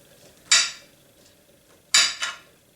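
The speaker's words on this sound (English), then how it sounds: "So we need to slice it really, really thin." A knife slicing an Amanita mushroom thinly on a hard surface: two sharp, bright tapping cuts about a second and a half apart, the second quickly followed by a softer third, each close and crisp against near silence.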